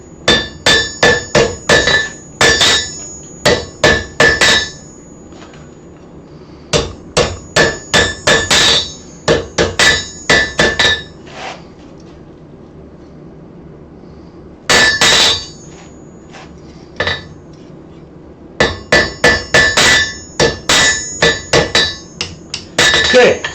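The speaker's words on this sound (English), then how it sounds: "So when I flip it flat, I can still hammer here without ruining that step." A hand hammer pounds a piece of metal stock that is being forged into a taper on an anvil edge. Loud, ringing blows come in quick bursts separated by short pauses, with no speech.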